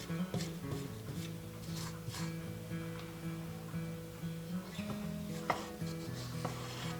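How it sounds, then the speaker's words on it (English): A spatula scrapes around the sides of a mixing bowl of chewy ginger snap cookie dough, giving close clinks and knocks over a low, steady scraping. "Now I'm going to scrape the sides of my mixing bowl here to make sure everything is mixed in really well"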